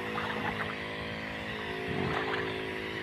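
A motorized pesticide sprayer runs in a chili field, spraying Pegasus and Lannate insecticides, making a loud, steady engine drone that holds without a break.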